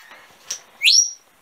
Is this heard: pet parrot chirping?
yes